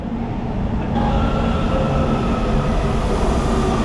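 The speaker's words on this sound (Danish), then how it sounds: "Der kommer metroen." LA Metro subway train arriving at a station, heading toward Santa Monica: a steady, loud rail rumble with faint wheel squeal that fills the whole stretch, no talk.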